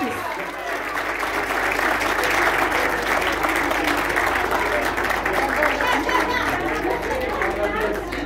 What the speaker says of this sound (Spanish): con un fuerte aplauso para Flavia Godoy